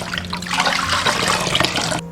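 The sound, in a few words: washing a whole chicken in clean water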